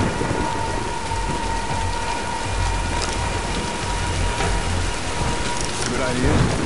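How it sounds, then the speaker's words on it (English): Steady heavy rain with thunder from a storm in the video game Tomb Raider Definitive Edition on PS4, an unbroken dense hiss of falling water with low rumbling underneath and faint scattered crackles. "let's wait out the storm"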